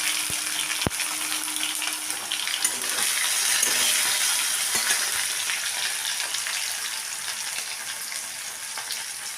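Chopped tomato goes into hot oil with cumin and grated ginger, raising a loud, dense, continuous sizzle that swells slightly, then settles into steady frying with a few faint stirring clicks near the start.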